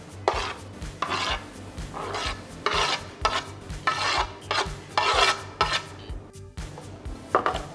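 Deboned Bombay duck (bombil) fish is moved into a bowl for fritters, making repeated close scraping and rubbing strokes in bursts of about half a second, loud and wet-sounding, with no talking.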